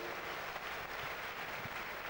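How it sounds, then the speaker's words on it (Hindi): Audience at a Hindi-speaking business event applauds for the two Amway founders, a steady faint wash of many hands clapping at a distance, with no voices. "उनके लिए जोरदार ताली होनी चाहिए।"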